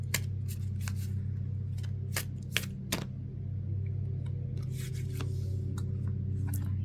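Oracle cards riffle and slide against each other in quick close bursts of papery flicks over a low steady background hum.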